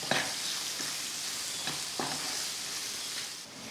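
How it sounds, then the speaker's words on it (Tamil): Onion, garlic and green chilli sauté in hot oil, producing a steady close sizzle and hiss broken by a few soft stirring scrapes, with no voices. "ஒரு வெங்காயம் நாலஞ்சு பல் பூண்டு பச்சை மிளகாய் ரெண்டு போட்டு நல்லா வதக்கி விடுவோம்"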